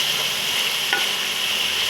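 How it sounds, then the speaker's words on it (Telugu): Chicken pieces dry roast in a pan while being stirred, giving a steady close sizzle with one brief scrape of the spoon midway. "ఈ పీసులు అవి డ్రై రోస్ట్ అయితే టేస్ట్ అనేది చాలా బాగుంటుంది"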